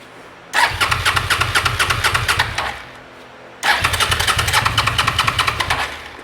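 A Suzuki SV650S motorcycle engine cranks without starting in two loud, close bursts. Each is a rapid, rhythmic chugging that lasts a couple of seconds, with a short pause between them.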